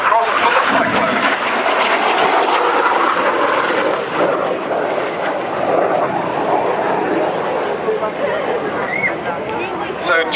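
Red Arrows jets roar through an airshow display at Koksijde, Belgium, a loud continuous rushing engine noise sustained throughout, with an announcer's commentary running over it.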